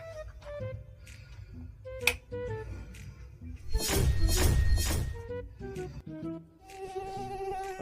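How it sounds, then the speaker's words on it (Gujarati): Mosquitoes whine in short, faint buzzing bursts around a person indoors, with a louder swelling buzz in the middle and scattered light taps and thumps between. "આ મચ્છર તો મારું રોય પી ગયા યાર"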